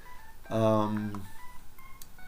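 Pay phone dialing tones in the NES game Earthbound, a short loud electronic tone burst followed by faint blips, with speech over the game sounds.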